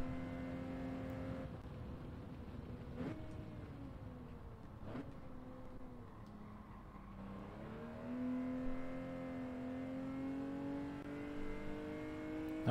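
Car engine in the Gran Turismo 7 racing game, loud and continuous, its pitch dipping on gear changes and then rising steadily as the car accelerates uphill, with no talking.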